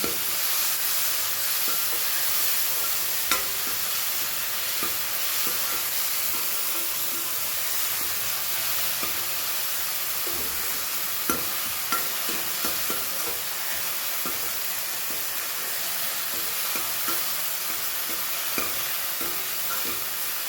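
Chopped onion, tomato and green chili fry in a pan with a loud, steady hissing sizzle, broken by frequent light scrapes and taps of a stirring spoon throughout.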